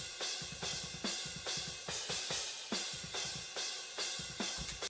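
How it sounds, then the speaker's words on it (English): Soloed cymbals from a metal drum mix, heavy in the overhead mics, ring out in a steady pattern of bright washy hits about twice a second, with faint thumps of drum bleed underneath and no voices. "So the cymbals by themselves sound like this."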